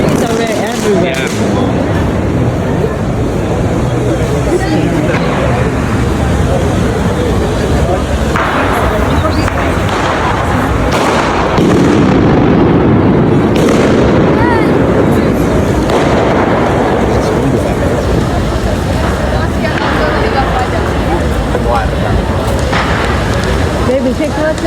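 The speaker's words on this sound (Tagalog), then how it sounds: "everybody is doing fireworks" Fireworks and firecrackers go off in the streets of Valencia near the cathedral square: repeated sharp bangs and crackling bursts, some close and loud, over a busy crowd murmur, while a person talks nearby.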